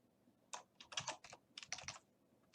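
Keys on a computer keyboard tapped in a short burst of quick clicks, close and fairly quiet, with brief pauses between clusters of keystrokes.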